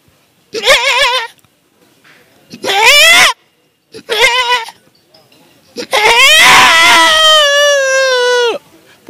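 A man mimics a goat's bleat with his voice, giving four wavering, nasal calls separated by pauses, the last one long, loud and sustained before it breaks off.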